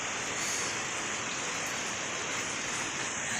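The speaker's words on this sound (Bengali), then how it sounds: "আজকে প্রচণ্ড যে বাইরে বৃষ্টি হচ্ছে" Heavy rain pours steadily outdoors, a dense, constant hiss of falling water that stays loud and unbroken throughout with no talk over it.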